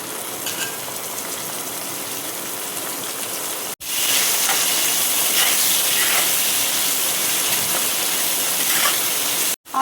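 Chopped onion sizzling in hot oil for upma, a loud steady crackling hiss that cuts off briefly and then resumes even stronger, with no talking over it.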